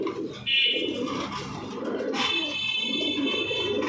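Pigeons at a Bangladeshi market stall, including Kaldom, Gorra and Giribaj breeds, give low murmuring coos close by, mixed with a bustle of background voices and a few high tonal bird calls.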